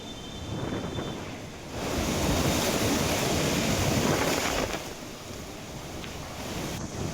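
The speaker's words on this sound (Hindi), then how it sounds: "अचानक से मौसम ने करवट बदली और कई इलाकों में तेज हवाओं के साथ हल्की बूंदाबांदी देखने को मिली है।" Strong gusting wind during a storm in Delhi NCR with light drizzle, a continuous broadband roar that swells louder in the middle and eases toward the end, with no voices.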